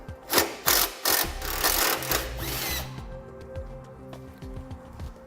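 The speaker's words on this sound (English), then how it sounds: "At the sway bar here, we'll need to take the 10mm bolts out of both sides of our strap" A power tool backs out 10mm bolts from the sway bar strap on a 2006 Hummer H3. Several sharp whirring bursts come first, followed by quieter clicks and rattles of metal parts, close up.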